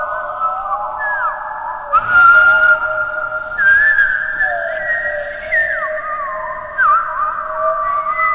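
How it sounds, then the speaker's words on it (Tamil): Whistle sound effect in a Tamil audio story, a sustained eerie tonal whistle with sliding pitch bends, loud and clear over a few seconds, joined by brief noisy rustling bursts. "அப்போது ஒரு விசில் சவுண்ட் கேட்குது."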